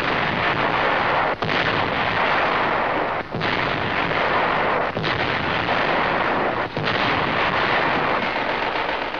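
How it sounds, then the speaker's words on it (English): Archival WWII artillery at Bastogne, big guns firing in a dense, continuous barrage of booms with brief dips between salvos, loud and unbroken throughout. "Before long, the big guns are ready to go into action and pound the Hun."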